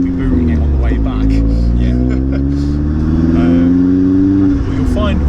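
A tuned Vauxhall Astra VXR launches and accelerates hard, its loud, close engine note holding steady and then climbing in pitch across several seconds before easing off near the end.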